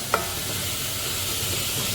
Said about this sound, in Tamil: மிளகு ஜீரகம் அதிகமாகவே சேர்ப்போம். நல்லா வதங்கட்டும்.